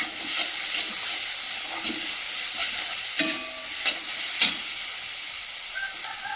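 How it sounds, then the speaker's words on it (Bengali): Meat with salt and spices is stir-fried in a pan, a continuous sizzling hiss punctuated by sharp scraping and clanking stirs that grow a little louder toward the middle. "লবণ, মশলাটা ভালো করে কষিয়ে দেবো"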